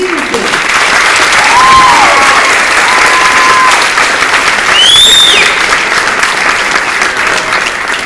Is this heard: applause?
yes